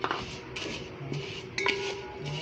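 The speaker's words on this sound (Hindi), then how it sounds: "ऐसे हल्का हल्का सा चम्मच हिलाते जाएं।" A spoon scraping and clinking against a pan while makhandi halwa is stirred, light intermittent metallic taps and scrapes over a low kitchen background, close by.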